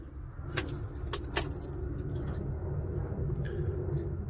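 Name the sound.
car engine being started with keys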